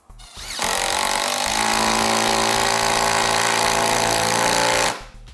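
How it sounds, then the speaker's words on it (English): A Milwaukee M12 FUEL impact driver on speed 3 sinks a drywall screw, giving one loud, continuous hammering rattle of about four seconds that starts and stops abruptly. "you'll see in speed 3, no problem sinking that drywall screw"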